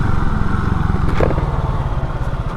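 A 1980 Honda CB250RS motorcycle rides along the hills of Kent, its engine giving a loud, close, continuous pulsing buzz throughout with no talk.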